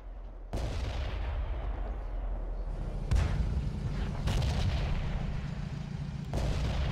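Heavy booming shots from a tank's main gun in a tank video game, several loud blasts at irregular intervals over a continuous low engine rumble.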